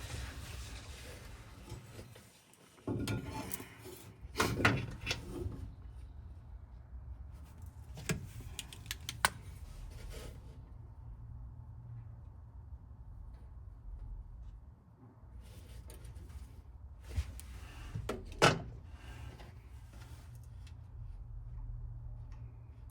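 Sparse metallic clicks and light taps come from fitting and hand-tightening a replacement fuel sender on a 1973 VW Bay Window Bus, with a couple of sharper knocks over a low garage hum and no talk.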